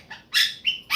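Small birds chirp and tweet close by in several bright bursts, with short pauses between the calls and no talking.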